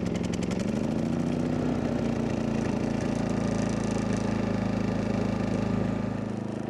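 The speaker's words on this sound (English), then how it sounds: "Just tap the button, wait a second, and it starts up." A Maxpeedingrods 3500 W gas/LP generator fires up on its electric starter, its engine note rising briefly before settling into a loud, steady mid-pitched idle close by.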